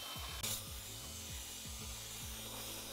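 A power drill with a brush attachment scrubs grime off an old wooden buffet dresser, giving a steady motor whir under repeated rhythmic scraping strokes that sweep back and forth at close range.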